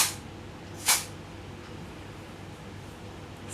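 A can of hairspray is sprayed onto hair in two quick, short hissing bursts close to the microphone, followed by a quiet room.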